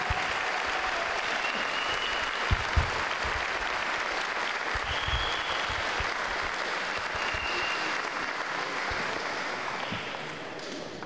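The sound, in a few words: audience applause at charity cheque ceremony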